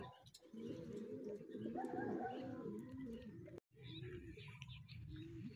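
Racing pigeons cooing and softly warbling close by, continuous low throaty calls with a brief cut partway through, then the cooing resumes.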